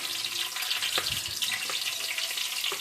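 Green chillies hit hot oil with popped mustard seeds and curry leaves, giving a loud, close, crackling sizzle that carries on throughout, with a few sharper spits and stirring clicks and no voices.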